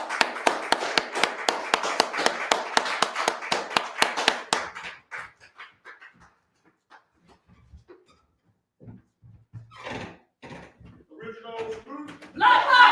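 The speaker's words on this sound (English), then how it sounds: "give a round of applause for Minister Rahim Aton" An audience at a gathering claps for a minister in loud, rhythmic unison for several seconds before the applause fades, then people speak and shout in the hall.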